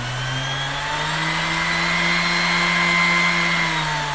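A Texas-brand electric random orbital sander runs steadily close by, a continuous whirring motor hum whose pitch rises and falls slightly as speed changes, with no voices.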